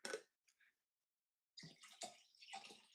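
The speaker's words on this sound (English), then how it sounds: "Just pouring some water here." Water poured into a container, a short splash followed after a pause by a longer, steady trickling stream, fairly quiet and close.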